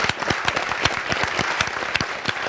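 An audience applauds in tribute to fallen soldiers, many hands clapping steadily with sharp individual claps standing out above the crowd, at a moderate level throughout.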